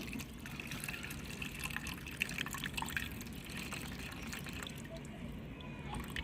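Eggplant seeds being rinsed and filtered in water, with steady trickling, dribbling and light splashing close by, a continuous wet wash throughout.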